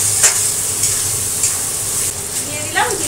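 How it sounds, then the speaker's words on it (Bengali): Tomato and boiled potatoes frying in a pan, heard as a close, continuous sizzle with repeated scraping stirs and soft spoon strokes against the pan. "টমেটোটাও একটু ভাজা ভাজা হয়ে গেল, আর আলু তো আমার সেদ্ধ করাই ছিল, আলুটাও ভাজা ভাজা হয়ে গেল।"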